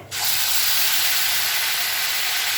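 A spice paste of ginger and cumin hits hot oil for a stuffed pointed-gourd dish, bursting into a sudden loud, close sizzle that holds as a dense, steady hiss to the end.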